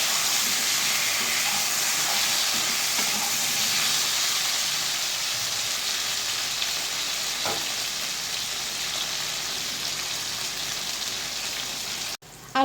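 Potatoes seasoned with turmeric and salt fry in hot oil, giving a steady, even sizzle and hiss throughout with a few faint clinks, then a sudden cut-off near the end.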